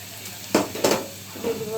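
Flattened rice (chira) dropped into hot oil with fried onion and green chilli, two quick loud bursts of sizzling and scraping followed by a softer crackle.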